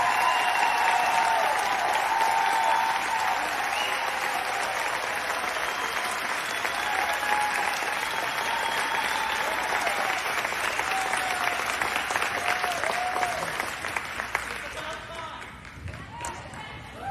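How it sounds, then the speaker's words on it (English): Sustained audience applause at a live political health event, dense clapping and crowd noise continuing at a steady level for many seconds before tapering off near the end, with voices faintly underneath. "Can we please get a round of applause for Bobby Kennedy and Donald Trump"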